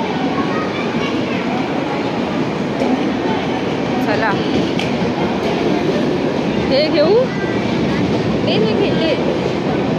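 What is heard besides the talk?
train arriving at station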